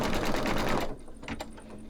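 A machine embroidery unit stitches a bicycle-with-hearts design, a rapid dense mechanical chatter that cuts off partway, leaving quieter motor hum and a few faint clicks.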